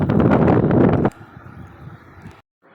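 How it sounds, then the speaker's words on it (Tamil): Strong wind buffets the microphone at a mountain peak in Karnataka, loud and rushing for about a second before dropping to a softer, steadier blow, then cutting out briefly. "இந்த பீக்குக்கு போன உடனே நல்ல காற்று அடித்தது, அந்த மேலெல்லாம் நல்ல காற்று."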